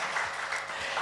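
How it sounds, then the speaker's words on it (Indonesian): A church congregation at a Sunday service applauding, a dense, steady wash of many hands clapping together, fairly loud and continuous through a brief moment. "berikan tepuk tangan bagi Allah kita yang luar biasa"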